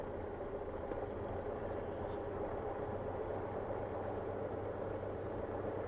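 A small airplane engine runs steadily during taxiing, leaned mixture causing it to bog down, a continuous low droning rumble heard from inside the cabin with no talk.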